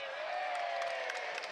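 A rugby league crowd at York Knights versus Hunslet cheers a great catch in the stands, a broad distant roar with scattered whoops and claps, fairly faint.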